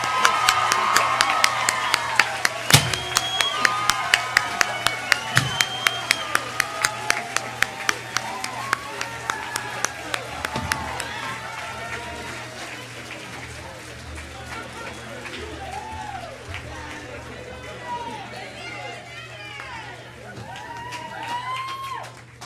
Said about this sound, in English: And we have another round of applause for the graduates of 2019.